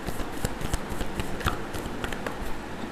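Tarot cards being shuffled by hand give a close, quiet run of papery riffles and soft slaps in quick, uneven bursts.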